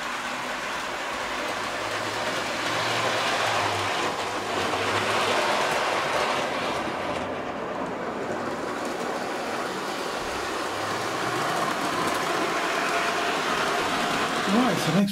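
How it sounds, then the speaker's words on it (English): A model train runs through a shed layout modelled on the red rock scenery of Sedona, Arizona, giving a steady, continuous rolling rumble at moderate level for the whole stretch, with no voices. "I'll just run a train through there, maybe, and show the effect"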